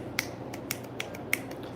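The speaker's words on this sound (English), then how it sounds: "I could like snap my fingers" Several crisp finger snaps, about four sharp clicks spaced irregularly over under two seconds, heard close and fairly quiet in a calm room with no talking.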